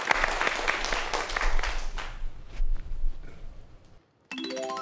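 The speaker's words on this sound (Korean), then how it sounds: "큰 박수 다시 한번 부탁드립니다" Audience applause at a Korean science lecture on space, a dense burst of clapping that thins out and fades over several seconds before a brief silence and a musical tone.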